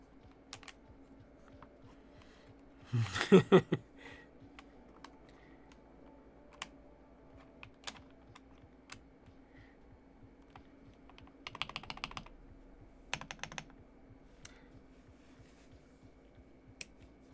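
Typing on a NyxKeys Athena 65 mechanical keyboard, a quick burst of close clacky keystrokes, then scattered single key presses and a second short flurry over a faint steady hum.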